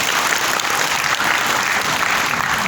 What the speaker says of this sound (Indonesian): Boleh tepuk tangan dong?